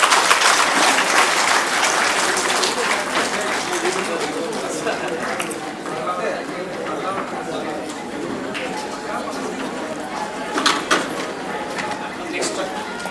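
Audience applause at a student merit award ceremony, a steady wash of clapping that runs the whole stretch, loudest at first and easing slightly, with scattered chatter and background voices underneath.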